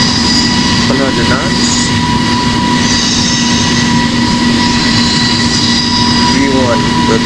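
An Airbus A350 rolls for takeoff at full TOGA thrust in the flight simulator game Project Flight, a loud, steady engine roar with a sustained tonal whine and a brief spoken word over it.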